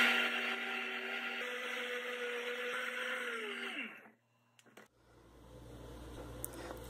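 A kitchen blender whirs loudly and steadily while mixing condensed milk, cream and passion fruit juice. It winds down and stops near the four-second mark, leaving a quiet room with faint background noise.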